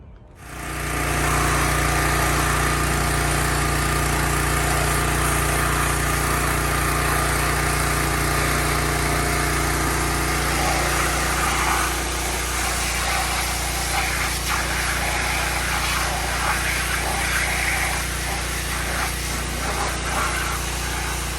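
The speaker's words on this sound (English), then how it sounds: "Then we'll use a pressure washer and get it all cleaned up." A pressure washer blasts the engine bay of a BMW E30 sedan, a loud constant motor drone with a hissing spray that holds unbroken throughout and eases slightly partway.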